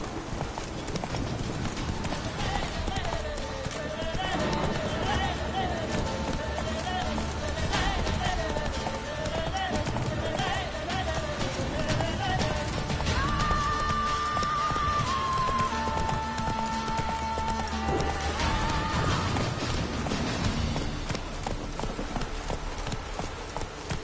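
Roach the horse gallops in a video game with continuous rhythmic clip-clopping hoofbeats, layered over a game music melody and ambient sound for the whole stretch.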